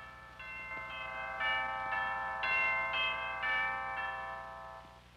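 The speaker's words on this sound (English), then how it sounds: "These brass tubes suspended from a frame are chimes. Notice that they're struck at the top with a special hammer." Suspended brass tube chimes, orchestral percussion, struck at the top with a special hammer: a slow melodic series of about eight bright, ringing strikes, each sustaining and overlapping into the next, clear and fairly loud with no talking.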